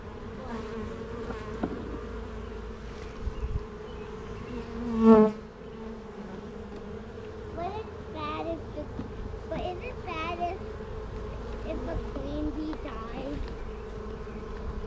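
Honey bees buzz at a hive during a spring hive check, a steady close hum with a brief louder burst, while a child and an adult talk quietly over it.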